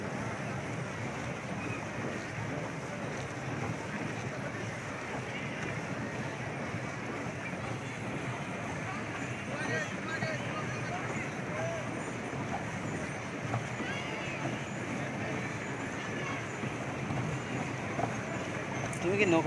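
A shallow-engine motorboat runs on a river, giving a steady, unbroken drone mixed with wind buffeting the microphone; faint voices murmur underneath.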